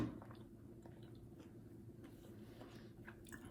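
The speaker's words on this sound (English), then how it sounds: "Right now, I'm chewing on a piece of fat that's next to a piece of meat." Steak fat and meat being chewed close to the mic, soft wet squishing bites at a steady pace, quiet with no talking.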